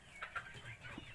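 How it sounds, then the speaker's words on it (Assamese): A few faint, brief clucks from local chickens on a small poultry farm of about 150 birds, soft and quick, with no voices. "150 মুৰ্গী আছে মোৰ তাত, লোকেল মুৰ্গী।"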